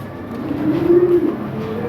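A high-quality pair of European toy lahori pigeons gives a single low, drawn-out coo close by, over a steady background hum.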